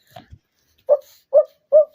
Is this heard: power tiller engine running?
no